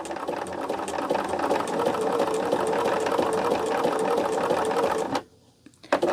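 Sewing machine running an edge stitch on fabric, a loud, close, rapid mechanical whirring that runs steadily for about five seconds, then stops abruptly before a brief restart.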